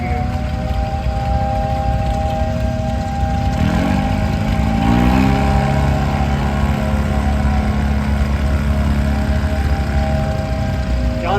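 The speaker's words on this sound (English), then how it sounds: "John Deere Model H." Vintage 1943 John Deere Model H tractor engine running steadily at an antique engine show, a continuous loud low mechanical drone with a brief rise in pitch partway through.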